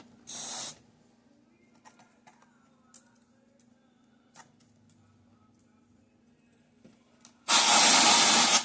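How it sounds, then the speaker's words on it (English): Canned air sprays into the injector of a Powermatic 5 plus cigarette machine in two loud, harsh hissing bursts, a short one first and a longer one at the end, with faint clicks and handling noise between. "use canned air and spray it into the injector to get all the little crumbs out"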